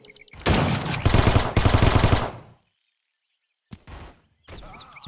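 Rapid automatic gunfire from the mobile shooter game Guns of Boom, loud and close, in two long bursts over two seconds, then a short gap and a few brief sharp shots.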